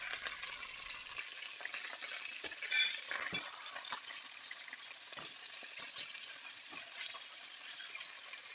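Beef strips sizzle and fry hard in a hot wok for a spicy-sweet firecracker dish, a steady close crackle with light clinks of a utensil against the metal and bursts of spitting.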